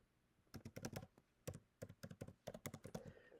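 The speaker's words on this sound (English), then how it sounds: "you type in your information" Someone types on a computer keyboard to enter account details, producing quick bursts of crisp, close keystrokes with short pauses between the runs.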